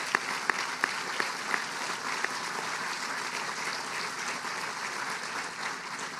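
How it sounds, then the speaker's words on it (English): A large crowd applauds at the grand opening of the NCSSM-Morganton school campus, giving steady, dense clapping throughout with a few sharper individual claps near the start. "let's give those folks a big round of applause"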